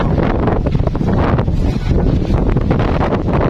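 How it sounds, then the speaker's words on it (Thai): Strong wind blows outdoors on a cold day, buffeting the microphone with a continuous loud, gusty roar and no speech. "ฟังเสียงลม"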